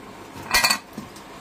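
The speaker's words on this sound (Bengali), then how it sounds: "আমি এটা ঢাকা দিয়ে দিলাম।" A metal lid is set onto a pot of soybean pulao, making one short, close clink and clatter in a quiet kitchen.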